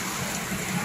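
Heavy afternoon rain pours down in a brief, steady hiss at moderate level, with no talking.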